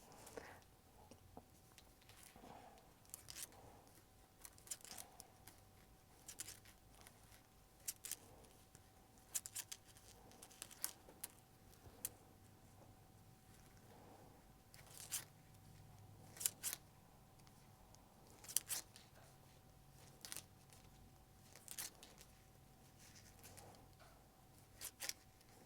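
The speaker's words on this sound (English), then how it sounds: "The little metal stitch markers hitting the paper." Small metal stitch markers tap and click against paper during knitting of a poncho, faint, sparse ticks and rustles scattered across a quiet room.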